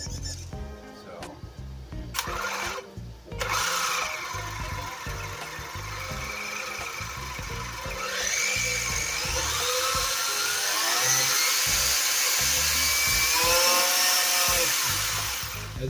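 Tamiya TT02 RC car electric motor running at about half throttle, a high whining buzz that rises and sweeps in pitch with short revs and pauses, close up, with someone talking over it.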